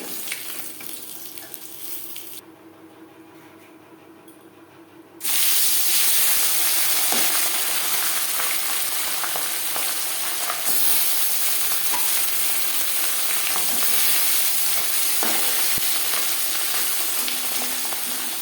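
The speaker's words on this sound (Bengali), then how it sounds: "পরের মাছ একইভাবে ভেজে নেব" Fish pieces fry in hot oil in a pan for a Bengali fish curry, a loud steady sizzle that quiets briefly then surges back and continues crackling close up, with no talking.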